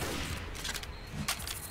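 Rapid gunfire from a Left 4 Dead co-op fight against a large infected enemy rattles loudly and continuously, with dense bursts layered under general game noise.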